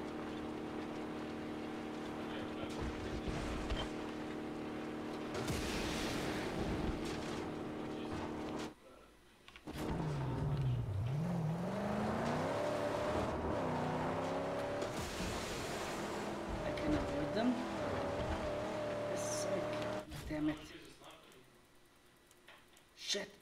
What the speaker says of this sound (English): Great, and the car sound just...